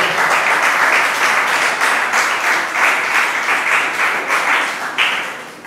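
A church congregation bursts into sustained, dense applause that rolls on with pulsing bursts of clapping for several seconds, loud and close, with no clear speech over it.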